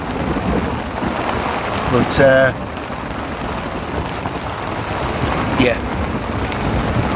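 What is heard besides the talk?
rain and thunder during a thunderstorm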